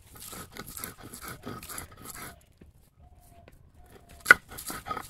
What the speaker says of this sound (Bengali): এখন বাটবো রসুন